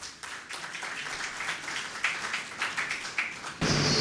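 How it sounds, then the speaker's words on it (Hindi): Audience applause greeting a poet called to the stage at a Hindi-Urdu literary gathering, a steady wash of clapping running throughout and swelling louder in the final moment. "आपकी भरपूर तालियों में"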